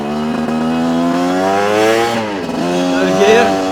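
A Chinese dirt bike engine pulls loud and close, its pitch climbing through a gear, dipping at a shift and then rising again, buzzing and steady throughout.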